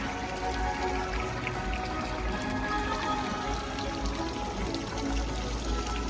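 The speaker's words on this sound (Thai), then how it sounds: "ตรงนี้ก็สิเป็นน้ำพุ สวยบ่จ้า น้ำพุงามบ่จ้า" Water splashes steadily from a public fountain in a town square decorated for the Christmas season, a continuous, moderately close wash of falling water with no speech over it.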